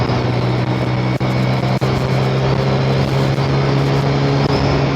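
A 125cc motorcycle engine runs at a steady, loud drone while out on the road, its low hum holding throughout with no audible rise in revs; no one speaks.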